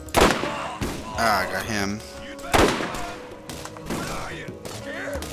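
Gunfire rattling in a Borderlands video game, several sharp loud shot bursts spaced a second or two apart among other game effects, with someone talking over the fight.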